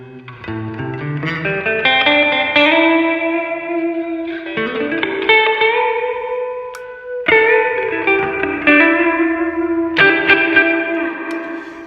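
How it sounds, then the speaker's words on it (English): An electric guitar plays through a Bugera Vintage 55 amp with the reverb cranked high, sounding as a few sustained chords and notes that ring into a long, washy tail, loud and alone. "So that's about halfway up on the reverb. Let's go ahead and crank it obnoxiously."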